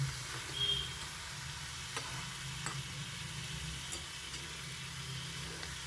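A fish head rubbed with chili powder, salt and turmeric fries to a medium finish in a pan, giving a steady, close sizzle with scattered crackles and pops and no talking.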